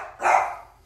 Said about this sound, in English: My dog is barking, so that's okay.